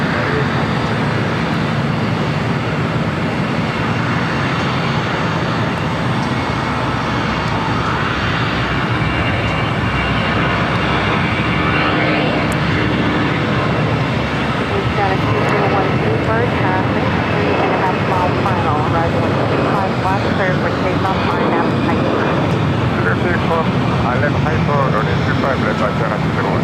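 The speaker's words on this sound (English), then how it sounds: "Next takeoff on 25 left" A jet airliner takes off on runway 25 left at LAX, a loud, sustained engine roar and rumble lasting throughout, with voices talking over it.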